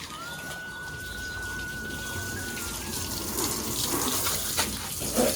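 Water pours from a tap into a container for mopping the floor, a steady rushing stream that grows louder and splashier toward the end, with a long thin bird whistle early on and no talking.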